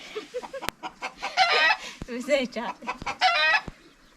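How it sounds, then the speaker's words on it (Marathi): A hen clucks and squawks loudly in repeated bursts after laying an egg, with a few sharp clicks between calls, close by. "जोपर्यंत अंडा घेऊन येत नाही तोपर्यंत कोंबडी अशी ओरडत असते"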